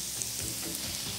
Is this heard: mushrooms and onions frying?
yes